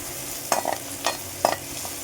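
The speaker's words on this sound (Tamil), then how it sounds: "இப்படி லேசாக கிண்டி விட்டுட்டே இருக்க வேண்டியதான்" Spinach frying in a pan for palak kuttu in an army kitchen, stirred now and then: three short scraping stirs stand out over a low, steady sizzle, close and fairly quiet.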